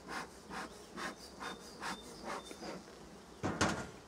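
Honeybees buzzing faintly around a hive being smoked, with a soft rhythmic scraping pulse repeating about twice a second and a sharper rustling burst near the end.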